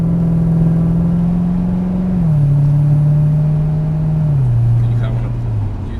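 Chevrolet Corvette Stingray on a track, steady engine drone holding pitch then stepping down twice as throttle eases, under someone talking throughout.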